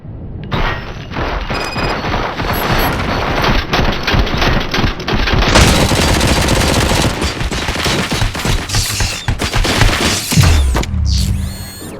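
Sustained machine gun fire in the video game Robocop: Rogue City, loud and dense with booming impacts and crashes layered through the rapid volley, ending in a short synthetic sweep.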